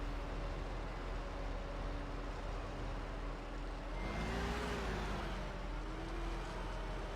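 A John Deere tractor engine strains under load while pulling in Farming Simulator 15, a faint, steady low drone that swells slightly partway through.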